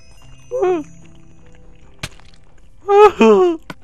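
Two short bleating calls from video-game sheep in a Minecraft-style world, the first brief and the second longer and wavering, separated by a few soft knocks and thuds over a quiet background.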